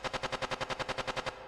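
A staticky percussion layer from a Sonicware Liven Ambient Ø synth with high feedback: about a dozen rapid, evenly spaced noisy bursts pulse in a steady mechanical rhythm, loud and gritty, with no voices.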